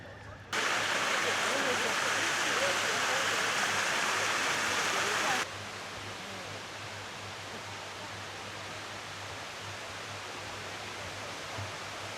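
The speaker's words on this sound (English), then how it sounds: "Only a couple of kilometers away from Buatong Waterfall, better known as the Sticky Waterfall." Buatong Waterfall, the Sticky Waterfall, in Thailand: a steady, broad rush of falling water. It is loud for the first few seconds and then drops to a softer, constant wash.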